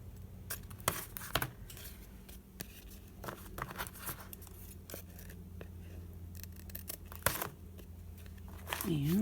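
Scissors cutting an angle through craft material for an inlay, a series of close, sharp snipping and rustling sounds with paper handling between cuts.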